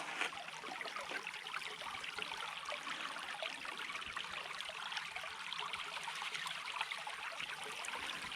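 Water rushes steadily through two 3D printed gold prospecting sluices in a Wisconsin creek, a continuous close-up wash and trickle with no break and no voices.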